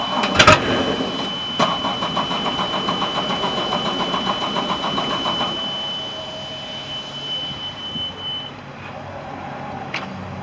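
A winterized 2018 Tahoe engine cranks with a rapid rhythmic churning, then catches and settles into a lower idle, with a few sharp clicks.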